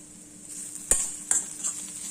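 Soft sizzling of tomatoes sautéing in a pan with a couple of sharp clicks of a utensil against metal, close and fairly quiet.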